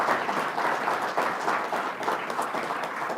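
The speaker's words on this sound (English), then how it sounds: "deserve a big round of applause because that's why we're here" Audience applause at a federal and provincial government funding announcement, a steady wash of many hands clapping throughout, moderately loud and without speech over it.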